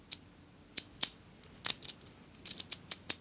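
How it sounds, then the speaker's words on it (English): Metal pin tumblers in a door deadbolt lock click as a key slides in, a string of sharp, dry clicks in uneven bursts, close up and quiet, with no voices. "I love the sound of those pins clicking into their special positions."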